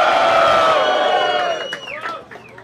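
A crowd at a DJ battle cheers and shouts loudly in one sustained roar that fades over a couple of seconds, with scattered whoops trailing off at the end.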